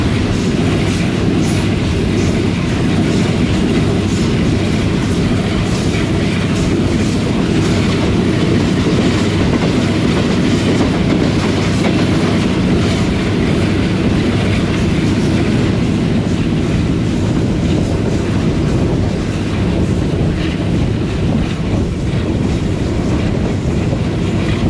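The Pak Business Express runs fast on rails between Bahawalpur and Lahore, a loud, continuous rumble with steady clickety-clack and occasional faint wheel squeal, heard close from on board with no talk.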